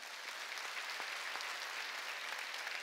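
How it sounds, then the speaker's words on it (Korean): Dense applause from a congregation fills a church service, a continuous soft wash of many hands clapping at a distance, fairly faint and without speech. "금방 박수 좀 쳐."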